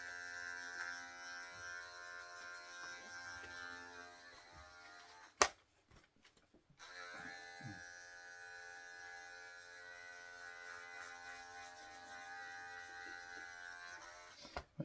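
Electric hair clippers with a number 4 guard cut hair with a steady, close, high-pitched buzz. The buzz cuts out briefly after a sharp click, then resumes and runs evenly.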